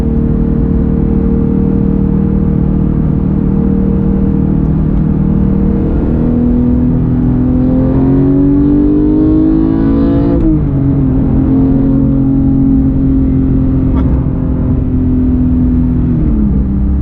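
A manual 2018 Porsche 911 GT3 with a six-speed gearbox accelerates hard in-cabin, its loud engine note climbing steadily through the gears with brief dips at each shift before settling into a sustained high drone.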